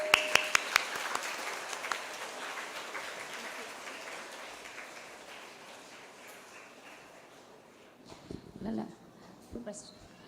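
Applause from an audience at a nursery and primary school annual day in Coimbatore starts with a few sharp claps, thins into a soft fading patter, then swells briefly again while people talk.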